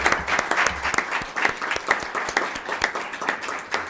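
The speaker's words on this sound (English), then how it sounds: "So please join me in a round of applause for Alana." A room at a school board meeting breaks into a round of applause, lively uneven clapping from a modest group, close and sustained with no talk over it.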